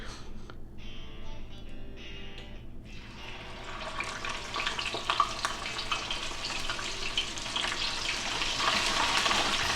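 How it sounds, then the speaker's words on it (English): Smoked chicken wings drop into a deep fryer, and the oil erupts into a loud, steady sizzle that builds and stays dense, over a constant low hum of the kitchen. "So I'm just going to hit these into the fryer."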